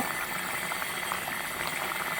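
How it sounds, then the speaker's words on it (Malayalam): Fish head curry bubbling hard in a clay pot, a steady close crackle and hiss of boiling liquid that holds an even level throughout, with no voices. "നന്നായിട്ട് തിളയ്ക്കുന്നു കണ്ടോ"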